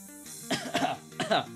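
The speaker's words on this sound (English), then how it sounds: "Cough." A man coughs several times in quick succession, close and fairly loud, the rough bursts mixed with throat clearing during a live card-game stream.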